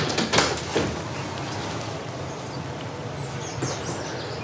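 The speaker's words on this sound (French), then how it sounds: "on entend quelques oiseaux, c'est les oiseaux qui nous réveillent le matin" Birds chirp faintly in a garden of a small house in the morning, brief calls scattered over a steady hiss of outdoor ambience, with a few sharper chirps near the start.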